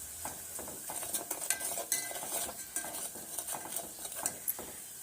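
A utensil stirs red chili powder and salt into a pan of Kolhapuri misal, producing repeated scraping strokes and light metallic clinks in an uneven rhythm, close and fairly quiet, with no talking.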